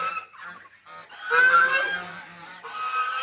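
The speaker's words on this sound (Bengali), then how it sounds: "এই হচ্ছে যে হাঁসের খামার" Domestic geese on a goose farm honk loudly and repeatedly at close range, a harsh nasal chorus rising and falling over a few seconds with no speech.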